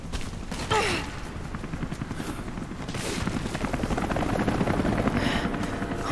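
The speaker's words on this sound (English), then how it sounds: "Fucking choppers. They're already here." Helicopters in the video game Rise of the Tomb Raider approach with a steady, rapidly chopping rotor thump. It builds slightly louder over several seconds, with brief sharp clanks and game effects layered on top.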